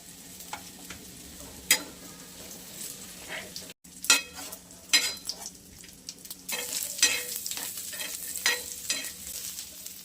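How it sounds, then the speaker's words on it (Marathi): Grated coconut sizzles and fries in hot oil in a pan while being stirred, giving a steady crackle with repeated scraping stir strokes, close and moderately loud, with no talking. "तेल टाकून घेऊया आपण त्याच्यावर खोबरं टाकून घ्यायचं"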